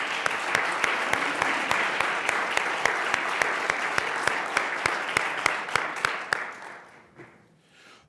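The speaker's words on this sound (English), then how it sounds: "I'd definitely like to just give a warm round of applause for all our parents and guardians that are in the stands tonight." Warm round of applause from families in the stands at a school board meeting, steady dense clapping with a few sharp louder claps, sustained for several seconds before thinning out and fading near the end.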